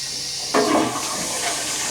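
A toilet is flushed in a home bathroom, the sudden loud rush of water starting after a quiet moment and continuing as a steady hissing refill, close by with no talking.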